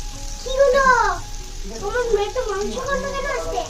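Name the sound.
food frying in a pan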